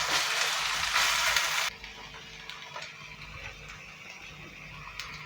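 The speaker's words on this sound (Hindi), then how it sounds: "इसे भी इसी में शामिल कर देंगे और कलर चेंज होने तक 2 मिनट तक फ्राई करेंगे" Boneless chicken with ginger garlic paste hits a hot pan, a loud broad sizzle for a couple of seconds that then drops to a quieter frying crackle with occasional light clicks, close, without speech.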